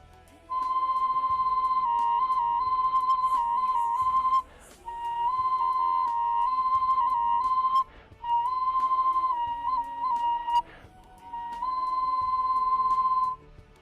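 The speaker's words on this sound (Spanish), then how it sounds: "cuando soplamos por este canal de insuflación tenemos unos efectos no solamente de silbatos monofónicos cada uno" An Andean ceramic multi-whistle figure, blown through its insufflation channel, sounds in long, steady, piercing tones, holding one pitch with brief wavering changes, broken by several short pauses.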